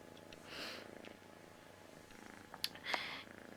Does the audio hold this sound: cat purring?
yes